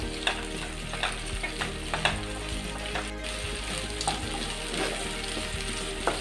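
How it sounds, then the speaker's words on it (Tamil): Chopped capsicum and onion sizzle in a pan while being stirred, with a steady frying hiss broken by repeated scraping taps of a spatula, close and fairly quiet. "சேர்த்துட்டு இது நல்லா ஃப்ரை பண்ணிக்கோங்க."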